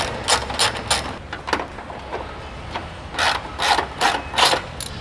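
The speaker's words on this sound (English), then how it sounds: "take your 10mm socket and undo the 2 bolts that hold the remainder of the under tray in place" A 10mm socket ratchet undoing the under tray bolts on a Kia Cerato GT sedan, giving short bursts of rapid, close clicking with brief pauses between strokes, and no voices.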